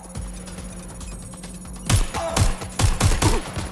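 Several loud gunshots in Watch Dogs Legion strike in an uneven burst of five or six sharp cracks, following a quieter stretch of low background game ambience.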